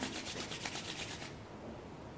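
Hands rubbed briskly together after a drop of essential oil is applied, giving a soft, close, dry swishing friction that pulses rhythmically for about a second before fading into quiet room tone.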